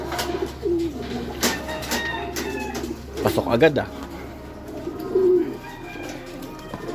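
Racing pigeons coo softly in a stock loft, a few low murmuring calls scattered through the clip alongside wing flutters and movement, with a person speaking briefly in the middle.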